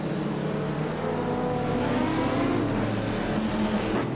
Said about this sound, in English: Isojix is driving a 2004 Ferrari